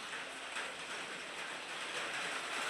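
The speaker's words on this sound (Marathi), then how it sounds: "पाऊस आला पाऊस आला" Faint, even hiss of steady rain falling, a dense continuous patter with no voices.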